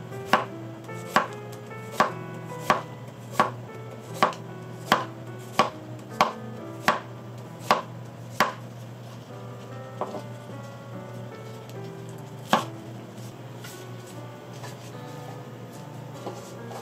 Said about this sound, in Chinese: 一样要顺纹切。